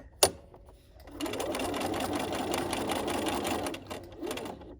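After a sharp click, a sewing machine hums into a steady, close run while stitching along the edge of a fabric dog leash, slowing briefly near the end.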